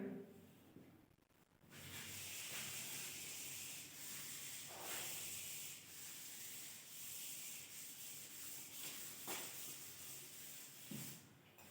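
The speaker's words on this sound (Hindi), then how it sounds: "आप उतार लो, इसे हम रब करते हैं।" Steady dry rubbing of a duster wiping writing off a board during a maths lesson, a continuous close scraping swish lasting about ten seconds with brief pauses and no talk.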